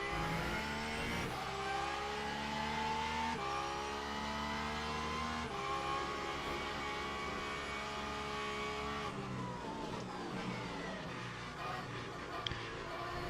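A Porsche GT3 race car in the racing game Le Mans Ultimate at Portimao, heard on board: a harmonic engine note climbs through the revs, then drops sharply at each gear change, repeating in steady cycles.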